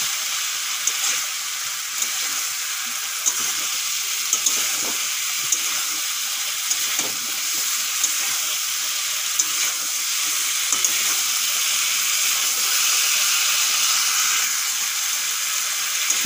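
Fried cauliflower and potatoes sizzling in a cooked spice paste, a loud constant hiss with faint scattered pops and crackles over sixteen seconds.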